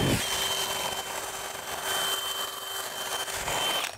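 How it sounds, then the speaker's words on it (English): Power drill with a self-feed auger bit boring through wood and foam in a wall during bathroom exhaust fan installation, a steady close whine and grind running the full length with a brief surge near the end. "those self-feed auger drill bits don't do anything on that. They just mush it up."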